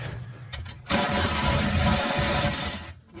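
A power tool whirs steadily for about two seconds while unbolting a bracket on a 1992 Mustang GT, preceded by a few light clicks and ending abruptly, close and loud.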